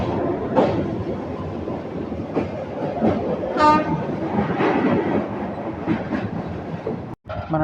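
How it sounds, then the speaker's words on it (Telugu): Trains move near Malkajgiri, where a train is shunting with a local: a steady rattling rumble with rhythmic wheel clatter, one short loud horn blast midway and scattered clanks, with no voices. "ఏదో ట్రైన్ షంటింగ్ చేస్తుంది 3 లోకల్తో"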